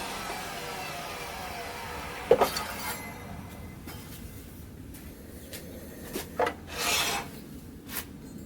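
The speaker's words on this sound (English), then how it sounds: "then we'll probably sand the bottom and give it a test run." Sanding the bottom of a turned charred oak cup, with rough rasping strokes and scrubbing against the wood, some louder bursts and a light clink, over a low background hum.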